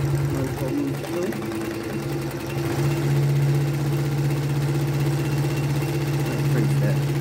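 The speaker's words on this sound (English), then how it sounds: "Coming up to about 8 layers of cloth here. The machine just walks over the bumps." Solent H-305-LH-4 walking-foot sewing machine stitching through eight layers of cloth, a loud steady mechanical hum with a rapid rhythmic needle chatter that strains briefly near the start and then runs evenly at close range.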